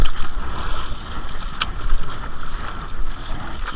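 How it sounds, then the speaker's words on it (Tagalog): Strong wind buffets a fishing boat out at sea, a steady broadband roar with gusting rises and falls throughout, close and loud, with water and hull noise underneath and no talking. "Lakas ng hangin."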